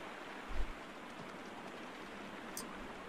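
Rain in a Sherlock Holmes video game, a soft, even hiss of falling water with a faint low thump near the start, no voices.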